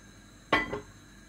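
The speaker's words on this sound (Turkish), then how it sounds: "Tenceremi de koyuyorum." A cooking pot is set down on a stovetop burner in a home kitchen while beef and dried beans are being prepared, giving one short clanking knock with a brief softer follow-up, close and alone.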